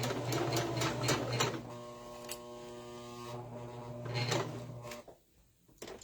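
A sewing machine stitches a cork-fabric Christmas tree pattern, running in steady bursts with a brief reverse backstitch pass. The motor hums close and fairly loud, stops near the end, and no one speaks.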